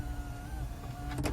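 A power sunroof on a 2023 Chevrolet Traverse Premier tilting and sliding, heard as a steady electric motor whine over low cabin rumble that ends with a brief clunk.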